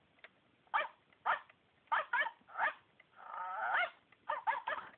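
A dog-shaped smart alarm clock with MP3 speaker plays a recorded barking alarm: a string of sharp, thin electronic-sounding barks in an uneven rhythm, broken once by a longer whining howl.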